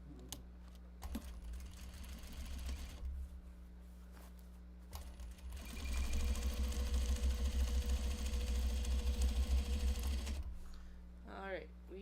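A sewing machine top-stitching fabric triangle pouch project bags, starting and stopping in short bursts, then settling into one longer, louder, steady whirring run before winding down near the end.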